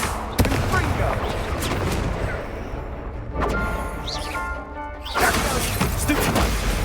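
Confringo fire spells cast repeatedly in the Hogwarts Legacy video game, each blast a loud sharp explosive burst amid dense layered battle noise, with impacts landing close and heavy and a brief quieter lull between volleys.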